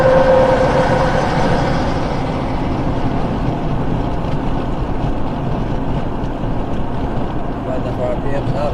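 An old truck engine on cruise control pulls up a hill, a steady, loud low drone with wind noise, while someone talks over it.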